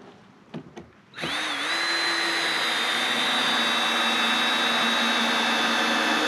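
A power drill drives exterior screws into garage wall framing: a few light taps, then a loud, sustained high whine that starts abruptly and runs on steadily to the end.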